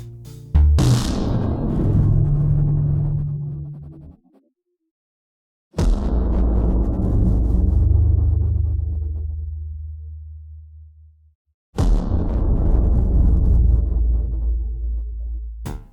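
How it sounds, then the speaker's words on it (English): Three long, heavy booms made for a nuke-themed game come from a snare and kick drum distorted beyond recognition. Each blasts in hard, rumbles low, then fades away over several seconds, with silent gaps between them. "To make explosion sounds, I used a snare drum and kick sound from a drum set, and distorted the actual heck out of it."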